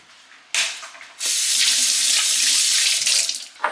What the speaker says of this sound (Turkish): 50-60 ml kadar da su koyacağız